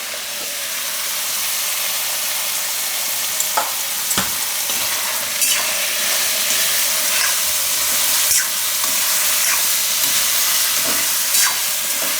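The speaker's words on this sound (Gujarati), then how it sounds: "અને તેલમાં પાકવા દઈશું. વચ્ચે વચ્ચે હલાવતા રહેવું." Eggplant with spices and turmeric frying in oil for a Gujarati dahi ringna curry, a steady loud sizzle with occasional sharp crackles and pops, close by and without talk.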